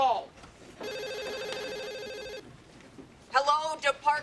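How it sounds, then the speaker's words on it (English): A telephone bell rings in a steady electronic trill for about a second and a half in a social services office, bracketed by brief talk before and after. "Taylor, that is not the way to answer the phone."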